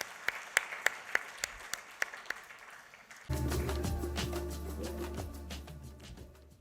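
Scattered claps at a Global Citizen India press meet build into a thick burst of applause that carries on, loud and close, over a low crowd murmur.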